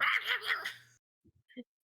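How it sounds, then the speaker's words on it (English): A little chihuahua yaps a few times, sharp and close, after a stretch of talking, with faint short sounds trailing at the end. "It's that fucking little chihuahua"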